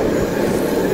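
A train rumbles loudly and steadily through a tunnel cut into a mountain, a dense, close, reverberant roar of rolling wheels with no voices over it.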